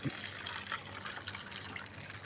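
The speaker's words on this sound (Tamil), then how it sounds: "இதில் தண்ணியை ஊற்றி நைட்டில் ஊற வச்சிடணும்" Water poured into a container in a kitchen to soak an ingredient overnight, a soft continuous splashing trickle, faint and close, lasting the whole brief moment with no talking.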